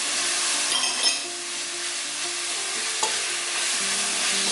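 Tomato puree sizzles and spits in a hot pan while being stirred for a Mediterranean-style sea bass, a steady close frying hiss with a few light clinks of the spoon against the pan.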